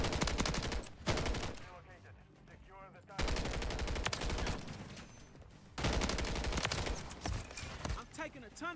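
Sustained automatic rifle fire in Modern Warfare 3 with a DG-58 LSW, three loud, dense bursts of rapid shots separated by short quieter pauses, with speech in the background.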